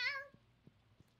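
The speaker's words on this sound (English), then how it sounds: "Hello, my kitty cat." A domestic cat gives one short, close meow at the very start, its pitch sliding downward. Near-quiet follows, with a few soft low thumps.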